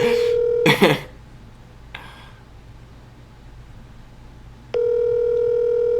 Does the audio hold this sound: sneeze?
no